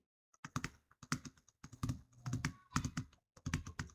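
Fast bursts of keystrokes on a computer keyboard tap out short groups of clicks with brief pauses between, close and clear with no other sound.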